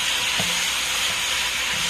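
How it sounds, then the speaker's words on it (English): Chicken for brown stew sizzles as it browns in sugar in a hot pot, a close, steady hiss with soft scraping from stirring. "Now you have to keep stirring because you're dealing with sugar, and sugar will still burn."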